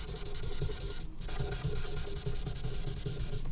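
Tissue paper rubs over graphite pencil shading on paper, a soft continuous close scrubbing with rhythmic back-and-forth strokes and one short pause.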